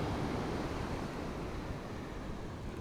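Ocean waves wash in a continuous, soft, rushing roar without distinct breaks, heard steadily and fairly quietly, as if from a little distance.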